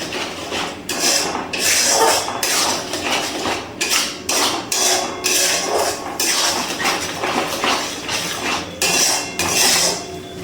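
Spice paste for Bengali bata fish jhal being stirred and fried in a pan over a low-to-medium gas flame: loud, rhythmic metal scraping and clanking of a utensil against the pan, repeating steadily throughout.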